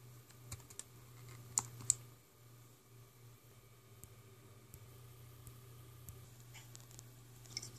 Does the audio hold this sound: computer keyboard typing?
yes